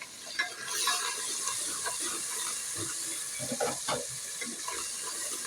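Spice masala sizzles in a pan after a splash of water goes in, a steady hissing fry with stirring scrapes and liquid bubbling, close and moderately loud.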